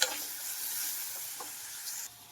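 Chopped onion sizzles and hisses steadily in a hot pan as the base for a fish curry, with a couple of soft stirring scrapes; close and continuous, no voices.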